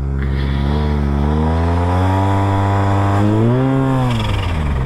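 A Yamaha TMAX 530 turbo scooter engine hums steadily and climbs in pitch, with brief airy hisses of wastegate discharge breaking through near and loud.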